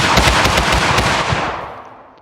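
Rapid rifle fire from a SCAR-style custom unit in Totally Accurate Battle Simulator, a loud, dense burst of closely spaced shots rattling for about two seconds before trailing off.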